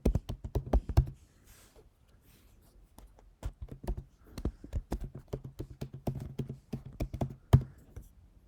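Keys on a computer keyboard clatter in quick irregular bursts, close and fairly quiet, with a short pause after the first second before the tapping resumes while an email address is entered into a scholarship application form.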